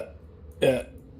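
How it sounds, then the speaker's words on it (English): A single short, throaty belch erupts midway, loud and close, with a quiet background before and after. "Just being propelled by belches at this point."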